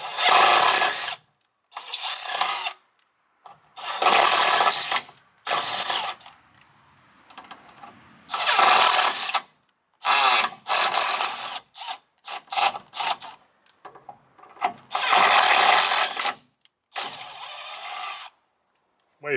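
A power impact tool chasing threads with a tap during radiator work on an International truck, in repeated loud close bursts of whirring and hammering separated by short silences.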